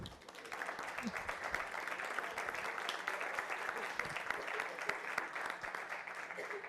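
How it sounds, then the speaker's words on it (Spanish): Audience at a startup impact-measurement workshop applauds steadily for several seconds, a dense, even wash of many hands clapping at moderate distance in a room, with a murmur of voices underneath. "quiero pedirles, por favor, un aplauso para los Migueles."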